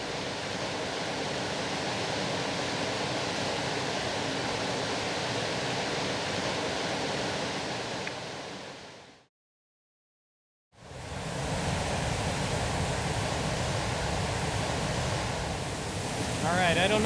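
Loud, dense rushing river rapids roar continuously nearby, cutting to silence briefly in the middle before the torrent resumes.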